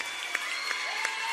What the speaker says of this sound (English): Everybody in the gym giving him a nice round of applause.